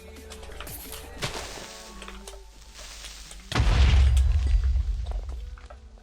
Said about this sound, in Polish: a drugi wybuch mi za plecami